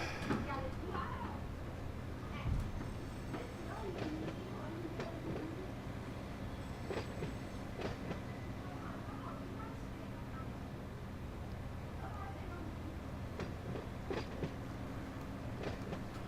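A freight train in the Run 8 train simulator, Edison Local, rumbles along with low steady rolling noise, faint rail clicks and squeals, while someone talks over it.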